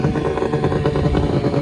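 A motorbike engine runs steadily and loud close by as it rips up the side of a road, with a rough, clattering mid-pitched drone throughout.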